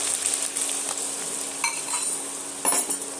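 Onion, tomato, turmeric and ginger-garlic paste sautéing in a pan for egg bhuna, a soft sizzle broken by a few brief clinks of a spoon against the pan.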